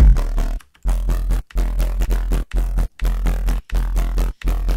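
Serum synth patch with a short feedback delay, feedback around 40% and mix at 27%, giving a metallic comb-like tone in a dubstep drop remake; loud, chopped rhythmic bursts separated by brief silent gaps, with no talking.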